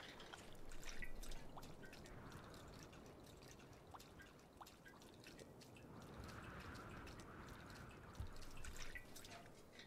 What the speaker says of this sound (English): Look at his concentration as he pours that fuel in.